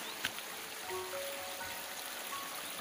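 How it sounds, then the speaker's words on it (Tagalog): Spring water runs steadily from a bamboo pipe stuck into the source, a continuous close trickling and splashing with a faint tap near the start. "Ang lakas ng tubig tapos nakatusok lang siya sa bukal"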